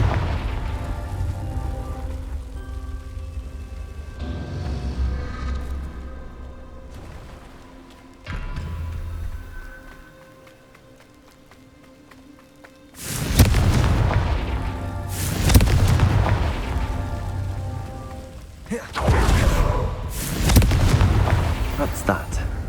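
Confringo blasting spell explosions in Hogwarts Legacy on PS5: a rumbling game soundscape gives way to three loud, booming blasts in quick succession, each with a sharp crack and a long rolling decay.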